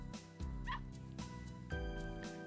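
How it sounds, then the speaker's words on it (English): A puppy in the visual novel Never7 yips in a high-pitched voice, with several short close barks and whimpers over a steady musical background. "The dog wags its tail back and forth and starts barking in its high-pitched voice."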